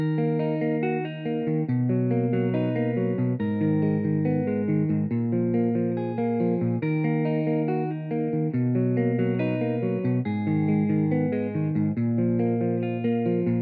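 A dry, clean guitar loop plays steadily, repeating a sustained chord pattern with no added echo or wash, loud and close throughout.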